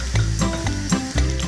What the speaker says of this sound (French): Je prends à nouveau de l'huile d'olive, je place dans la poêle une échalote et de l'ail et je place également les carapaces des scampi.